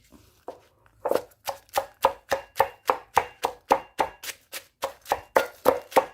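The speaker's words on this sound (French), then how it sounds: "On va mettre l'échalote, l'ail, le piment. Et on va écraser le tout." Shallot, garlic and chili are pounded in a mortar as a base for a tomato condiment sauce: steady, close, rhythmic thuds at about three strokes per second, with no talking.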